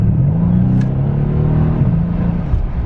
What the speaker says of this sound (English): You can hear the turbos like